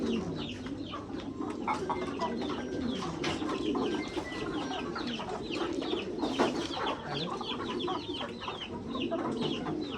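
Large roosters on a rooftop farm cluck and call continuously, mixed with pigeon cooing and other bird noise, forming a dense, steady flock chorus of moderate loudness.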